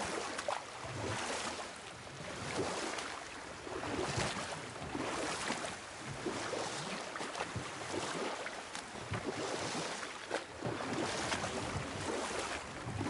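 A boat rowed across water in God of War gives a steady, broadband wash of water and oar strokes with soft rhythmic swells, faint and even, without speech.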